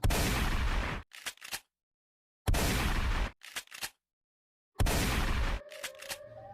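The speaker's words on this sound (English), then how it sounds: "Gunfire from shotguns and pistols went off." Three heavy gun blasts boom out in turn, each followed quickly by a couple of sharper, shorter shots, loud and close with silence in between.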